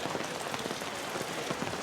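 Heavy monsoon rain in Mumbai near Churchgate station, a dense, steady hiss of drops pattering on surfaces close by, with no voices.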